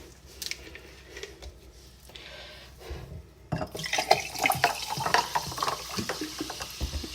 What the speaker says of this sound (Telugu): గాట్ ఐస్ క్యూబ్ వేసుకొని గ్లాస్లో స్పార్క్లింగ్ వాటర్ ఉంటుంది కదా,